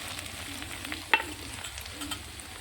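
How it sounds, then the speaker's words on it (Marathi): Onion fries over a wood-fired stove, sizzling softly in a pan with scraping stirs and one sharp clink of the spoon against the pan, close and fairly quiet with no voices. "आता आपण त्याच्यात टाकू कांदा."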